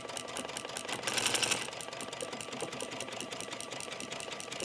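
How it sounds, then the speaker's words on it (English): A sewing machine stitching buttonholes with a special foot runs in a steady rapid whir, with a brief louder surge early on and no talking. "buttonholes are so much easier to sew nowadays. The machines and the special feet make it very easy."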